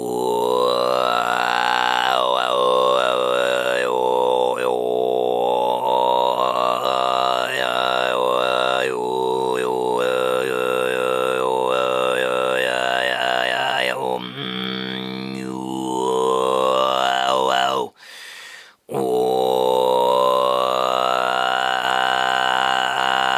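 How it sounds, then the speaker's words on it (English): A single voice sings Kargyraa-style deep bass overtone throat singing, a continuous growling drone with gliding whistle-like overtones above it, loud and close, broken by one brief pause near the end. "The next style that we are going to talk about is called Kargyraa."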